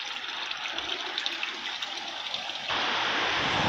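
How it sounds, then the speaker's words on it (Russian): Water flowing in a small outdoor fountain with goldfish, a steady splashing rush that swells louder and fuller near the end. "Здесь вот такой вот фонтанчик с золотыми рыбками."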